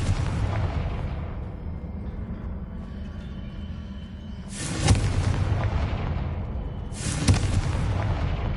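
Confringo fire spell blasts in Hogwarts Legacy: two loud, sharp explosive bursts about two seconds apart, each with a rumbling tail, over a steady low game ambience.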